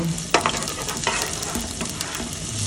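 Garlic and ginger sautéing in a hot pan with a steady sizzle, broken by a few sharp stirring scrapes near the start and middle, close and moderately loud.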